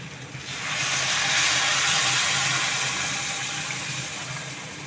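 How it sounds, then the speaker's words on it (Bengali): Pre-heated hot water pours into a simmering curry of very mature jackfruit, a steady broad hissing gush that swells after the first half-second and holds fairly loud and close before easing slightly, with no talk. "এবার এতে আমি আগে থাকতে গরম করে রাখা জল দেব"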